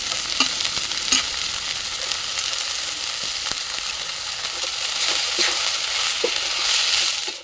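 Chopped leafy greens hit a hot pan already seasoned with turmeric, salt and sugar, giving a steady close sizzle with scraping stirs and soft clicks throughout, growing slightly louder toward the end; no one speaks.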